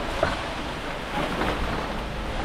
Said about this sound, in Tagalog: Ang lakas ba naman ng hangin?